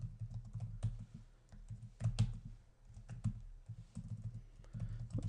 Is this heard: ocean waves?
no